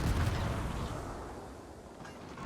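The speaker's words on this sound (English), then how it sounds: "Continuing to fire HE." An Omaha light cruiser firing HE shells in World of Warships, a heavy booming salvo that rolls off into a fading low rumble, loud at first and then decaying.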